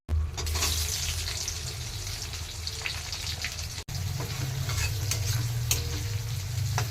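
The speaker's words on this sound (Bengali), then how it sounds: "চিকেনগুলো তুলে নিয়ে গোটা গরম মশলা ওই তেলে দিয়ে দিতে হবে।" Whole garam masala spices crackle and sizzle loudly in hot oil left from frying chicken, a dense continuous hiss with a brief break partway through.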